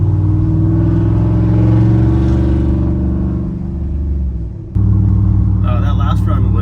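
A car fitted with Speed Engineering long tube headers cruises at light throttle, its exhaust giving a steady, deep droning rumble with a brief dip before the note returns, while a person talks over it.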